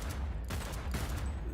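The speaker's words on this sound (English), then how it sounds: "I hear gunfire, and I'm sad that I'm not part of it" Gunfire in a shooter video game, a dense burst of rapid distant shots running continuously under the ambient game noise, fairly faint.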